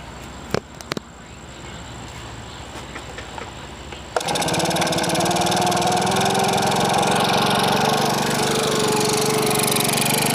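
Makita BHX2500 leaf blower starts up with a couple of sharp clicks, then its small engine settles into a steady, loud, close idle with a constant buzzing hum that runs on to the end.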